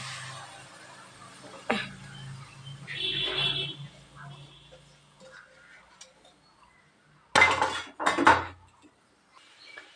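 Sugared raw mango pieces dropped into a nonstick pan, giving a short clatter, a soft hiss and a couple of louder scraping bursts of utensil on pan, close and quiet otherwise.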